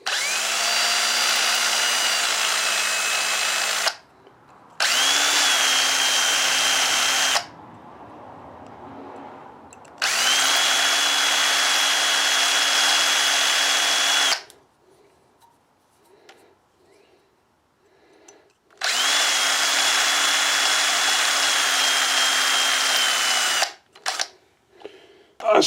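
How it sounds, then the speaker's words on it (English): A drill bores out the tubes of an Earthquake chipper shredder carburetor in three long loud bursts with an uneven whine, separated by short pauses and quiet rustling. "Drilling these holes out, these tubes out, have not gotten me anywhere."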